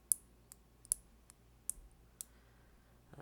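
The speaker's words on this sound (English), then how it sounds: "You kind of hear a little clicking noise when that happens" Sharp, light clicks sound in an irregular series, about eight of them over a few seconds, close and crisp against near silence.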